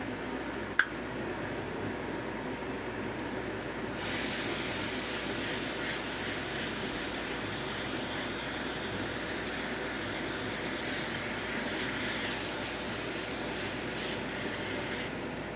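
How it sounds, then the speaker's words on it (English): A steady aerosol spray hisses continuously for several seconds after a brief faint click, loud and unbroken, cleaning a Yamaha MG10/2 audio mixer. "I'm gonna spray it anyway, guys."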